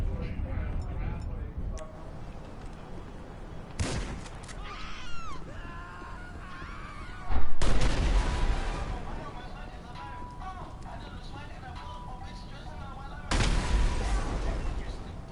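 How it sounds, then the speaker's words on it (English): A video game explosion on Del Perro Freeway erupts in sharp bursts amid ongoing gunfire-like cracks, with a person talking over the action. "We've got an explosion on Del Perro Freeway."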